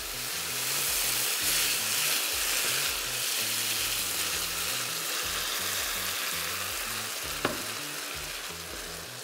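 Rice for a mushroom risotto sizzles in a pan as vegetable broth is added, a close, steady frying hiss with soft stirring textures and one brief sharp clink near the end.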